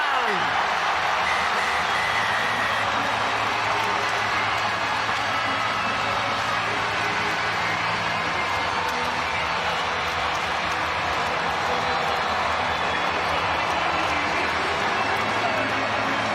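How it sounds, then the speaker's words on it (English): A stadium crowd roars without a break at the Wales vs Australia rugby match of the 2021 Autumn Nations Series, a loud, steady wall of cheering that fills the stadium from start to finish. "And the crowd have just gone insane."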